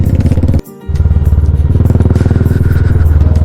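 A motorcycle engine thrums loud and close on a bumpy mountain road in fog, its rapid pulsing beat briefly cutting out for a moment before resuming, with no talk.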